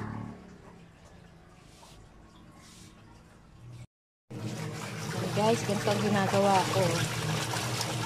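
Laundry is scrubbed and sloshed by hand in water. Someone speaks at first, then after a brief pause steady splashing and trickling take over, close and fairly loud.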